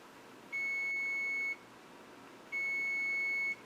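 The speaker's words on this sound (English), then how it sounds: "And our timer's done." Kitchen oven timer beeping in two steady electronic tones, each lasting about a second, separated by a short pause, clear and fairly loud over faint room noise.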